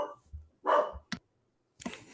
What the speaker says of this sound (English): Bella is not happy. Who's she barking at?